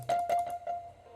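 A soft synthesized bell tone from Omnisphere rings out, struck a few times in quick succession, then sustains and fades gently with a mellow, airy shimmer.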